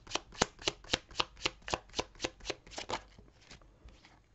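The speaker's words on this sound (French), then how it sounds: "on va prendre 5 cartes" Tarot cards being shuffled by hand in a steady run of about a dozen crisp riffling bursts, close and clear, trailing off into softer, looser handling at the end.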